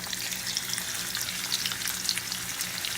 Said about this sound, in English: Yeah, that's what we want to hear. That sizzle, sizzle.